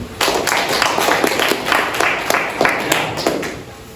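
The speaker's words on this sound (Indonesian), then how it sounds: "Tepuk tangan dulu." A class of students claps hands during an Islamic studies lesson, an uneven burst of many claps spread across the room, moderately loud and continuous, tapering slightly at the end.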